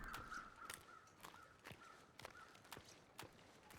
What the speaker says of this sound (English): I see some crows circling.